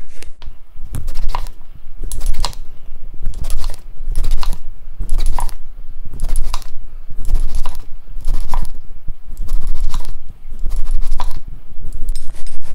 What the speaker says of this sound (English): I'm going to cut this eggplant about half an inch thick.